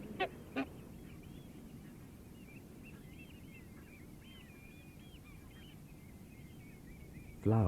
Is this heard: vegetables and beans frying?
no